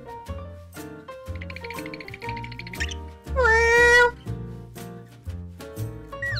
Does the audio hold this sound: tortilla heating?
no